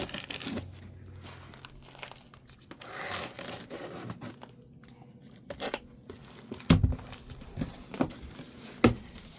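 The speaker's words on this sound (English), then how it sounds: "So let's get this thing cut open." Cardboard packaging for an off-grid battery is cut open and torn, with scattered crinkling, ripping and crunching rising to a few louder tears near the end, close by with no talking.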